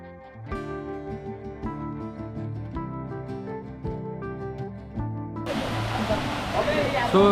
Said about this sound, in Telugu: సో ఇది వచ్చేసి బేసిక్ వాటర్ ఫాల్